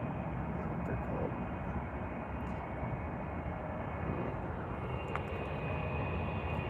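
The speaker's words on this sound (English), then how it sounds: "There's the FedEx right there. It's taxiing down. Alaska Airlines is about to take off." FedEx and Alaska Airlines jets taxiing at Anchorage airport fill the air with a steady, distant engine roar that holds level throughout.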